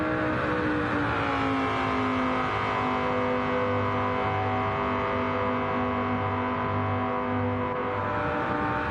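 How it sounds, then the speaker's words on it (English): A Dodge Viper V10 engine in the video game Gran Turismo 7 revs hard and holds a steady high-pitched roar, loud and continuous, with tone shifting slightly as it accelerates. "you gotta love the sound of that Viper V10"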